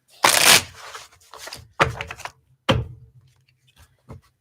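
Tarot cards snapped and slapped down in a late-night reading, a series of sharp papery cracks and flicks in irregular bursts, close and crisp against an otherwise quiet room.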